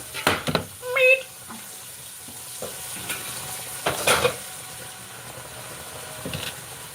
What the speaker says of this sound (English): going to cook our meat.